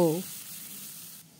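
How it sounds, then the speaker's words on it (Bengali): Chicken pieces frying in oil in a wok, giving a soft, steady sizzle that carries on alone after a brief voice at the start. "এই কড়াইতে আবার তেল দিয়ে মাংসর পিসগুলিকে ভালো করে লাল লাল করে ভেজে নেব"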